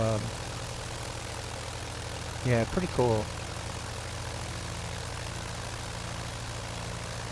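Curtiss JN-4 biplane engine in a flight simulator game, a steady low droning hum running throughout with someone briefly talking over it.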